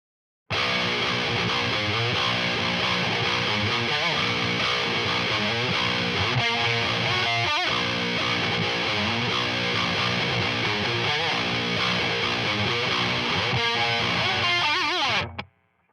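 Electric guitar played through a Line 6 Helix and a Bias Amp with no reverb, a steady, distorted, effects-laden tone ringing continuously at high level for about fifteen seconds before cutting off sharply.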